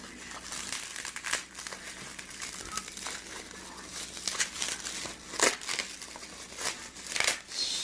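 Stiff plastic packaging for a DS450 sprocket retainer is cut and pulled open up close, with continuous crinkling and crackling and sharper snaps and tears coming in irregular bursts.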